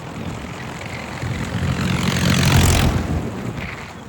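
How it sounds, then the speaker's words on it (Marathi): A heavy, loaded tractor engine rumbles as it approaches and passes close by, swelling to a loud roar and then fading slightly. "ट्रॅक्टर बघा सकाळ सकाळी भरून चाललाय बघा"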